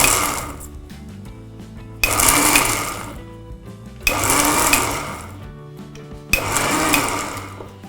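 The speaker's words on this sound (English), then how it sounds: "We will grind this in short spurts at the lowest speed." Kitchen grinder blending cashew nuts and sugar at its lowest speed in short spurts: three distinct whirring bursts, each about two seconds long, separated by brief quieter pauses, close and fairly loud.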